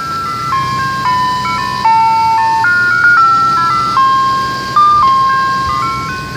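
An ice cream truck jingle plays loud and close, a bright electronic melody of sustained stepping tones repeating in phrases over faint background hum.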